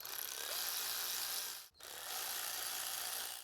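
A ratchet snugs down upper intake manifold bolts on a 2004-2007 Mercury Monterey, giving two continuous bursts of rapid, close clicking split by a brief pause.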